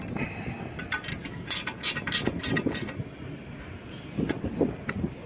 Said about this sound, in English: lock down your 1032 nuts to 25 inch-pounds